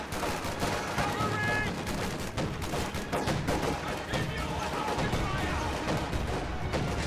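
Gunfire from a Tier 4 defensive structure in a real-time strategy game, firing at a penal battalion: repeated sharp bursts and scattered shots in a busy battle mix, with a voice talking over parts of it.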